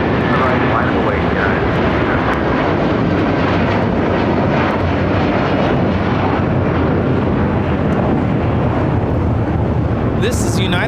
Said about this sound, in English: This is United Airlines Flight 1400 taking off to Chicago O'Hare on a 757-300.